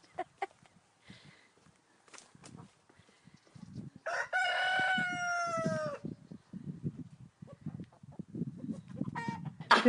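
Backyard hens cluck and murmur softly near a coop, and partway through a rooster lets out a loud, clear crow lasting a couple of seconds, with scattered scratching and faint clucks around it.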